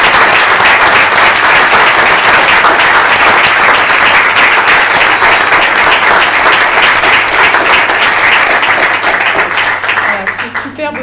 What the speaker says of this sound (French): j'aimerais bien que vous vous applaudissiez tous.